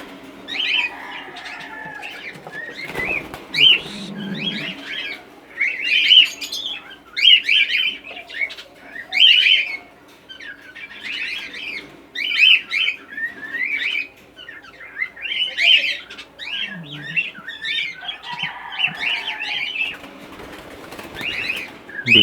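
Cockatiels and African lovebirds in a home breeding aviary keep up a busy, close chatter of chirps and squawks, with a few wing flutters mixed in.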